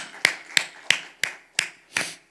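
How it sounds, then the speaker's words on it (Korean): Church congregation in Seoul clapping in unison, six sharp, evenly spaced claps in a steady rhythm, close and distinct with brief decays between them. "하나님께 박수로 영광"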